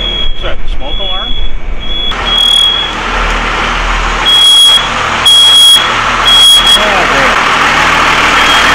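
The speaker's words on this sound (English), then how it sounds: "Is that a smoke alarm?" A high-pitched smoke alarm beeps in short repeated bursts on a docked boat, over a running engine and people talking nearby.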